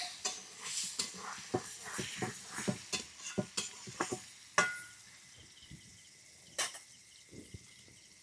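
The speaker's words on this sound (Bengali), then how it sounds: "তো আমি এইভাবে হালকা আমড়াগুলো ভেজে তুলে নেব" Hog plums (amra) lightly frying in a little oil, heard as soft sizzling under repeated close clinks and scrapes of a utensil against the pan, irregular and moderately loud.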